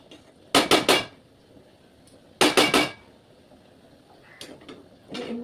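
Soybean and vegetables being sautéed in a pan, heard as two loud bursts of quick metal scraping and clattering a couple of seconds apart, followed by softer, scattered taps and stirs.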